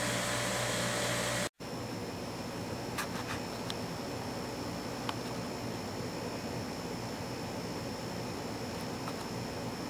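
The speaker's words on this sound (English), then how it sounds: "I'm going to do that on the drum sander" A steady, loud mechanical whir of a drum sander thinning wooden guitar braces, running continuously, with a brief cut near the start and a few faint clicks, no voices.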